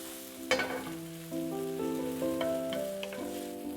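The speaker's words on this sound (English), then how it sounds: "Sauté for a couple of minutes." Red onions sautéing in a pan for Hakka noodles, a faint, steady sizzle with a few light clatters as they go in, under soft music.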